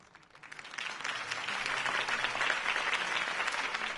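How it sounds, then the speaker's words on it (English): A crowd applauds after a campaign speech for Harvey Dent, the clapping swelling within the first second into steady, dense applause that holds for the rest of the stretch. "If only Mr. Wayne, my campaign's largest backer, could have heard that applause"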